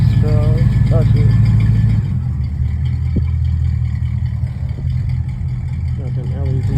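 Custom car rolling through a parking lot on its first test drive, a steady low engine hum with a brief rev and thump, under someone talking.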